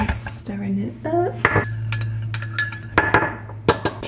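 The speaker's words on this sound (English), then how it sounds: "and stirring it up" A spoon stirs hot chocolate mixed with water in a mug, giving repeated bright metallic clinks and scrapes against the sides, irregular and close, over a low steady hum.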